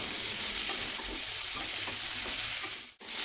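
Broad beans and potatoes frying uncovered in an open pan, a continuous close sizzle with faint stirring textures and a brief dip near the end, no voices.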